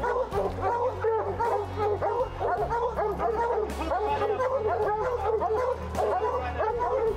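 Hunting dogs bay and yelp continuously at a bear during a North Carolina bear hunt, a chorus of overlapping barks, yips and howls at close to moderate distance, with people talking over them.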